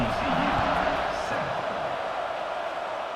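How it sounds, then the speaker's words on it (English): Crowd noise in a college football video game forms a dense, steady murmur of stadium fans with some cheering, fairly loud throughout and overlaid with voices. "this crowd is buzzing after that last score"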